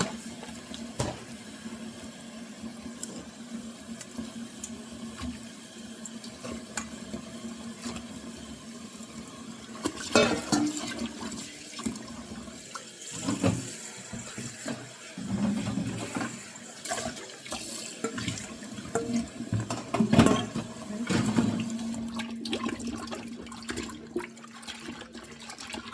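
Beef honeycomb tripe rinsed under running tap water in a sink, a steady splashing stream with handling and sloshing that grows busier midway.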